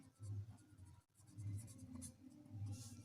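A pen writing on paper while working a decimal word problem: soft, close scratching strokes in short repeated bursts, faint and quiet.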